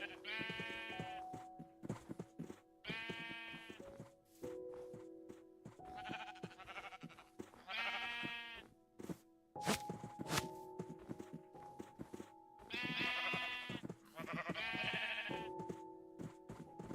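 Minecraft sheep bleat repeatedly in a farming game, several clear, close game-sound baas in uneven succession over soft footsteps and steady tonal game music.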